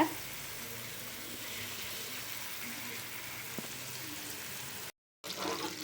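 Pieces of paarai fish fry in a pan over a low flame, a soft, even sizzle that holds steady throughout. It cuts out briefly near the end.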